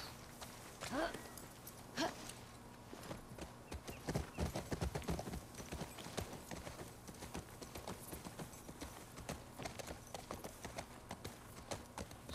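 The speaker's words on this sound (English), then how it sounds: "Here comes the horse." Horse hooves clip-clop steadily on pavement in the post-apocalyptic Seattle streets of The Last of Us Part II, a continuous walking rhythm at moderate distance with a brief whinny early on, mixed with game ambience and occasional talk.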